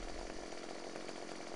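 A chainsaw cuts a tree in the Farming Simulator 15 logging game, a loud, continuous buzzing drone that holds steady throughout with no pauses.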